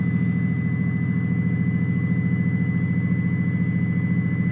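Steady, loud low-pitched idle from a 1993 Subaru WRX GC8 fitted with a 3-inch downpipe and exhaust, resonator and Megan Racing muffler, a continuous throbbing rumble close by with no voices.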